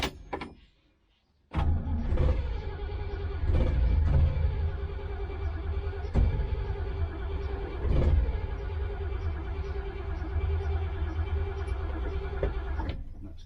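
A 1971 engine cranking and firing after the ignition is switched on, then running with a steady droning idle and a few louder surges, close and loud, after a brief quiet moment.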